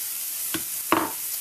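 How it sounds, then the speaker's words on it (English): Unwashed rice is added to browned onions in a pan and stirred, two quick scraping stirs over a soft steady sizzle, close and alone. "So I had my onions all brown, so I'm adding the rice now"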